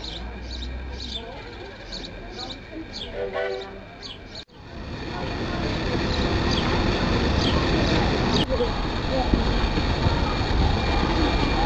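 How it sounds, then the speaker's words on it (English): A train ride through Wales, heard from on board as a steady, loud broadband rumble. Bird-like chirps ring out over it early on, then a brief dip before the constant running noise resumes and carries through to the end. "we took a ride on the train"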